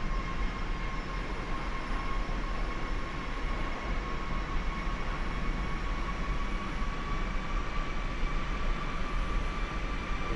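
A C-17 Globemaster III in X-Plane 11 taxiing to cargo after landing, its engines holding a steady loud jet drone with a sustained whine, unbroken for about ten seconds.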